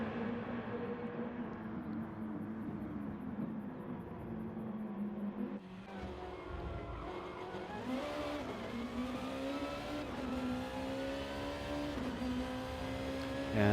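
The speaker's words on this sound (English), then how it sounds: "there we hear the mighty roar of the NSX" Honda NSX race car engine in a sim-racing league event, revving loudly and continuously with rising gear-pitch sweeps and a brief dip near the middle before climbing again, no voices over it.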